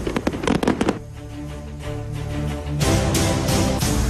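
Fireworks go off in a celebration in Donbas, a rapid burst of sharp cracks and pops followed by sustained crackling and louder booming rounds, fairly close and busy throughout.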